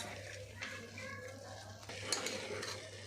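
A spoon stirring gangavayala greens frying in oil in a pan, quiet scraping and clinking strokes over a soft sizzle at close range.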